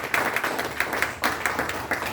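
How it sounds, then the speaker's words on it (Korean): Brief applause welcomes a lecturer at a talk, with rhythmic clapping heard close and fairly loud, in short bursts. "자, 큰 박수로 환영해 주십시오."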